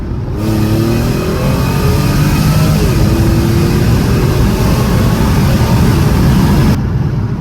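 A supercharged Mercedes C32 AMG pulls hard through second gear, its engine note climbing loud and close in a sustained rising rev that fills the whole stretch before cutting off abruptly.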